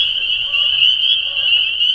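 A dense chorus of frogs croaking at night in spring, a continuous loud trilling drone that fills the whole stretch without pause.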